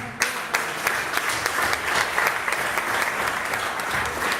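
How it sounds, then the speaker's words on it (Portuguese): A church congregation applauds steadily, many hands clapping together at close range, the sound holding even throughout with no voices over it. "Vamos aplaudir a palavra do Senhor."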